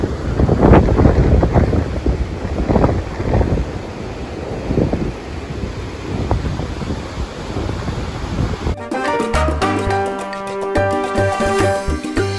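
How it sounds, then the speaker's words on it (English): Strong wind buffets a phone microphone on a rough-sea coast in Barbados, a loud continuous rumbling roar for about nine seconds before cutting to a steadier, more tonal stretch of noise. "Just trying to shield the phone a bit from the wind. It's very, very windy."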